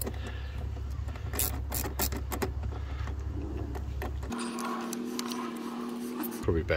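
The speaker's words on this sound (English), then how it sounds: "So a little 10mm socket wrench under these" A 10mm socket wrench ratchets off the nuts on an Audi A4 air filter cover from 2004 to 2009, producing quick, close clicking over a steady low engine-bay hum, with a brief change in the background tone partway through.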